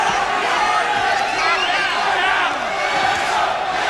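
A boxing crowd roars steadily for Molina in the late stage of a fight against Danny MaGuire, a dense, loud wall of cheers and shouts that holds throughout, with voices mixed into the noise.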